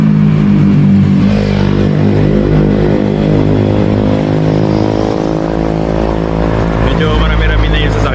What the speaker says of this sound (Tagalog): Medyo marami-rami na yung sasakyan na dumadaan.